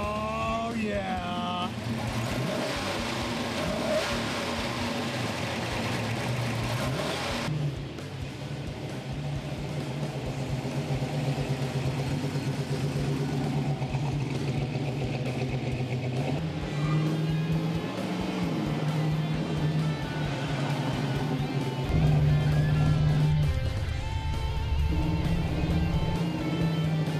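A car engine turning over and running, a steady close rumble with rises in revs over nearly half a minute, with talk among people in a garage setting over parts of it.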